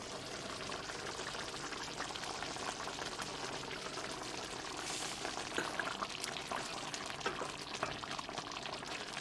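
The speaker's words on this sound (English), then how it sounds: "Cover with the lid and let it simmer for 10 minutes." Chicken marsala gravy, made without cream or wine, bubbles and simmers in a covered pan, giving a steady dense hiss with soft popping throughout, fairly close and even in level, with no talking.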